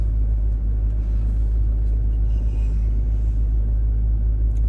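An old Land Rover engine idles nearby as it warms up, a deep, steady rumble that holds constant and loud without revving.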